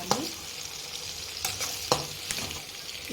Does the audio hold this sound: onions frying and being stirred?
yes